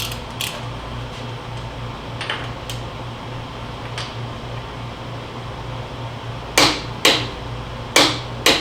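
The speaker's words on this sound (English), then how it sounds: "let's go ahead and torque this rear axle" A torque wrench tightens the rear axle of a 2015 Suzuki V-Strom 1000 motorcycle to 72.5 foot-pounds. Sharp metallic clicks come in a close, loud burst near the end, after a few quieter ticks over a low steady hum.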